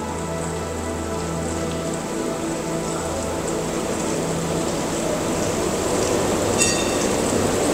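A tram passes along a city street in Braunschweig, Germany, with a steady close hissing rumble and a sustained tonal hum that stays loud throughout.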